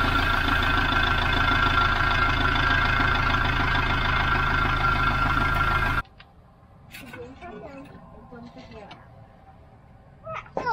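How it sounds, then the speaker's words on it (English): A Kubota L4060 tractor's engine idles loudly and steadily up close for about six seconds, then cuts out abruptly, leaving quieter handling noises and brief talk. "I'm going to start the tractor up"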